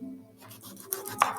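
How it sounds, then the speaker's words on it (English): A knife slices the ends off a fresh eggplant on a cutting board, giving two or three crisp, close chops in quick succession with no talking. "Remove both ends for safe chopping."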